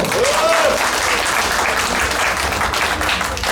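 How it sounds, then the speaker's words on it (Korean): Warm audience applause welcoming a speaker to the podium at a dance academy opening ceremony, a dense steady burst of many people clapping for a few seconds, with a faint voice early on. "뜨거운 박수로 맞이해 주십시오."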